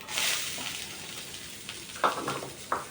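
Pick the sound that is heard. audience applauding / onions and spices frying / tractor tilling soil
onions and spices frying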